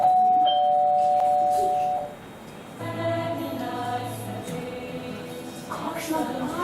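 A doorbell chimes clearly at the start, two bright ringing tones, at a theatre performance day at UP PEF. Then a quieter stretch gives way to a burst of music.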